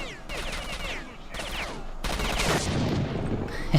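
Gunfire from a weapon in S.T.A.L.K.E.R. Shadow of Chernobyl: a dense, continuous volley of shots for several seconds, growing heavier and louder toward the end, with no voices.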